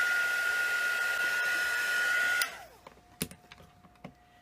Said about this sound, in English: I can set that to the side and hit that real quick with the heat gun.